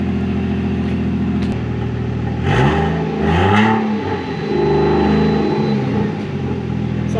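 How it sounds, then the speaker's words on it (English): A turbocharged Honda Civic EK engine idles steadily, then gets two quick revs that rise and fall, followed by a few gentler blips before settling back to idle. "We'll let this warm up for a little bit and then give you guys a quick little rev here."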